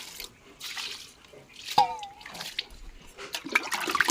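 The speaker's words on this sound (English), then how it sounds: "Let me just use it to pour water here." Water pours from a cooking pot in a rushing splash with a few drips and splatters, fairly close, during a dog bath in an outdoor setting, with no talk.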